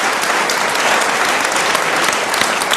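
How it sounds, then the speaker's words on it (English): An audience gives a warm round of applause after a talk, dense continuous clapping throughout, close and loud. "A warm round of applause and gratitude to Lydia Tischler"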